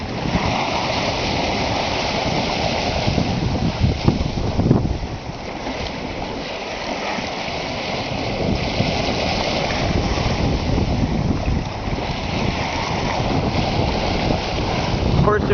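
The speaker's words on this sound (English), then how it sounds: "You can hear the boat surf a little bit on the waves." A single-handed sailboat surfs ocean waves in the wind, with continuous rushing water along the hull, gusty wind buffeting the microphone, and swelling surges as the boat picks up speed.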